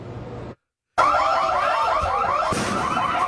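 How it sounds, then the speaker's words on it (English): A store alarm sounds, drops out for a moment, then returns with a loud, rapidly warbling electronic wail that repeats in quick cycles. "You're hearing the store alarm wail."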